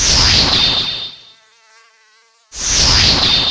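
Two loud bursts of high, whining mosquito buzzing, close to the ear, split by a second or so of near silence before the drone returns.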